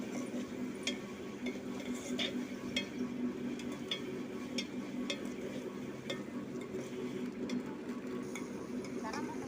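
Ridge gourd curry stirred in a pan with turmeric, a soft continuous sizzle under light scraping and a few faint clinks, quiet and steady throughout.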